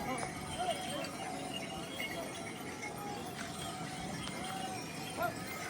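Horses walk down the mountain trek to Kedarnath, their hooves clip-clopping faintly and irregularly at a distance under steady outdoor ambience.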